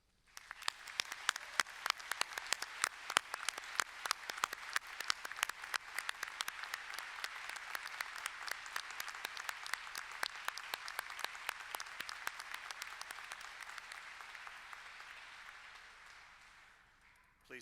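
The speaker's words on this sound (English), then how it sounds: "I now ask members of the audience to applaud your accomplishments" An audience at a Monash University graduation ceremony applauds the graduates, a dense, steady wash of clapping that holds for about seventeen seconds before thinning out at the end.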